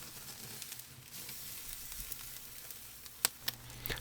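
Lamb chops searing on a Kamado Joe grill, a faint distant sizzle with a few light clicks and taps of tools.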